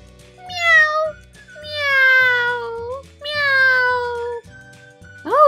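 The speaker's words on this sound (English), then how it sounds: "There's a kitty stuck in the tree." A cat meows loudly three times in long, drawn-out calls while stuck up a tree, with a faint backing melody beneath and the start of another meow at the end.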